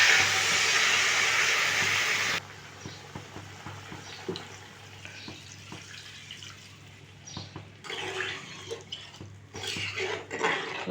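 Water is poured into a simmering pan of ridge gourd and prawn curry, a loud broadband sizzling rush that cuts off sharply after about two seconds, followed by quieter bubbling, steam hiss and occasional clinks of cookware.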